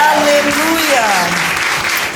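A church congregation applauds loudly for Jesus during a worship service, a dense, sustained wave of clapping that fills the room while a voice calls out over it.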